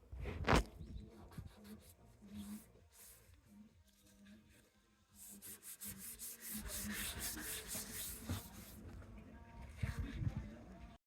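A hand rubs back and forth over rough, contaminated car paint before polishing, a dry scratchy sanding sound in repeated strokes, close and fairly quiet.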